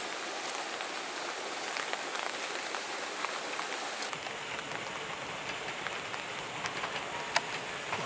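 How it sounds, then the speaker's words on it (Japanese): Steady rain falls on a walking route near Yoshinoguchi station on the Kintetsu Yoshino Line, a constant hiss of drops pattering on surfaces with occasional sharper drips, close and even throughout. "雨これだけ降ってんのに"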